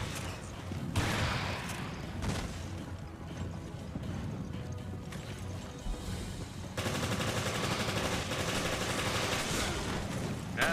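Shotgun fire in the video game Resident Evil Revelations comes as loud bursts of blasts and heavy mechanical game noise over a dense, continuous background.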